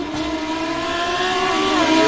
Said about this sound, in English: And you hear there the Lamborghini going through.